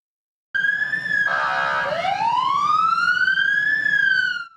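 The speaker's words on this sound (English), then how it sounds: "The happy birthday song sounds a little different in sirens and horns." Emergency-vehicle sirens and horns play the happy birthday tune: a loud siren wail rises and falls, and a brief blaring horn tone cuts in partway through, with no voices.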